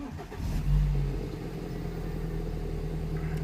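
A BMW 320i E90 revs up and pulls away on a test drive after brake work, a steady mid-pitched engine note that swells briefly before settling into a continuous close drone.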